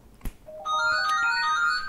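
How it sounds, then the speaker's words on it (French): A phone ringtone starts after a soft tap, a bright melodic electronic tune of rising tones that rings on steadily and fairly close in a quiet room, with no talk over it. "Téléphone."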